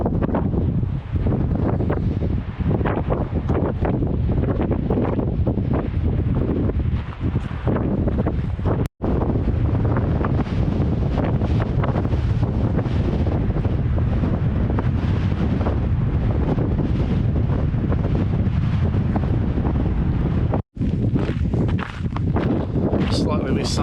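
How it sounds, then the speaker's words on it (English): Strong, steady coastal wind buffets the microphone beside a lighthouse in Cape Range National Park, a loud continuous roar with no let-up across the whole stretch. "it's still windy"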